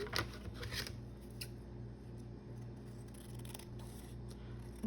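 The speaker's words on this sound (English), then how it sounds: "I can cut the edge off the bottom" Scissors snip through the paper edge along the bottom of a handmade paper craft flip-up pocket, a quiet close series of crisp cuts and rustles.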